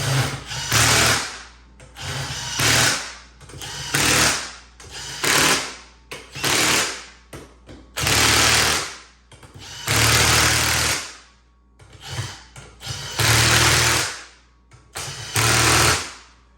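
A power tool tightens the bolts on a wheel while Sedona Ridge Saw tires are mounted on Sano wheels. The tool runs loud and close in about nine bursts, each a rattling, hammering whir separated by short pauses.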